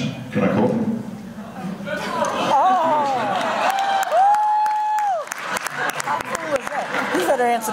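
A convention panel audience at Wizard World Sacramento yelling out together, bursts of crowd shouting and cheering mixed with loud talk, some high drawn-out voices rising above the room noise.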